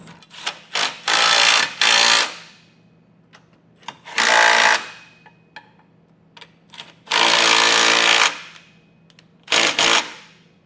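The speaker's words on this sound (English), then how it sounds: "we'll come back with a 19mm socket and snug it all down" A power tool with a 19mm socket tightening trailer hitch bolts on a 2024 Toyota Sienna, loud rattling bursts of one to two seconds separated by short pauses and light clicks of the hardware.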